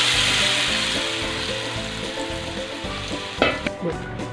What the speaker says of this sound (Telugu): ఇప్పుడు మనము కలిపి పెట్టిన చేపల పులుసు ఇందులో వేద్దాం.